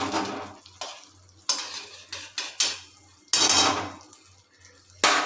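A spoon scrapes and knocks around a pan of banana-stem (thor) curry with ghee, giving loud irregular metallic strokes and clinks separated by short quiet gaps, with a faint sizzle underneath.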